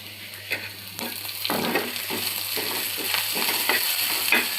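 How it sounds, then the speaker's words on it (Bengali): Onion and chilli sizzle and fry in a pan for an ilish fish curry with pui shak, with a steady crackling hiss and intermittent stirring scrapes close up, no talking. "পেঁয়াজ মরিচ ভেজে নিচ্ছি"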